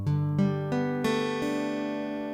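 A Weissenborn guitar in open D tuning rings out a slide chord played with a bar, with several struck notes quickly layering into a sustained, resonant chord that slowly decays.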